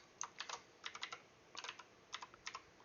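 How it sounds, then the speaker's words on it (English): Quick bursts of clacky keystrokes on a mechanical keyboard, close and fairly quiet, arriving in short irregular clusters with brief pauses between them and no talking. "yeah, I got one of them clackety keyboards"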